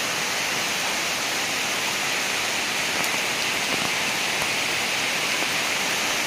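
Steady rain falls outdoors, a dense, loud, continuous hiss of drops on surfaces that holds constant throughout, with a few faint ticks of heavier drops and no voices.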